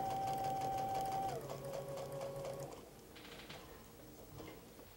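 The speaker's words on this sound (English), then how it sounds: "Continue sewing. Always remember to sew slow over the pins." A sewing machine runs quickly through pinned quilt pieces, its fast mechanical stitching whirring loud and close. It slows and stops about halfway, leaving only light handling noise and faint movement.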